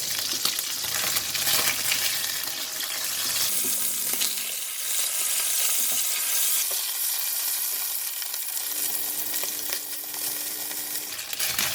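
Pork belly frying in a pan as it is turned, a loud, continuous close sizzle and crackle with faint scraping underneath.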